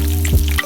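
Cauliflower and potatoes fry in hot oil with a close, steady sizzle that carries on without a break and then drops away sharply near the end.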